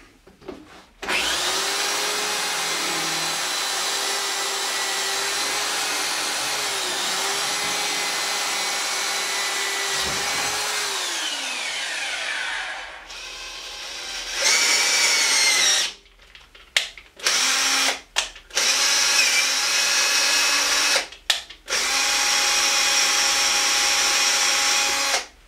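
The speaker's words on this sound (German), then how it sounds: "jetzt nehme ich den 5er Bohrer" A power drill with a 5 mm bit whines steadily into metal, pitch sagging under load, then stops and restarts in several short bursts with pauses between.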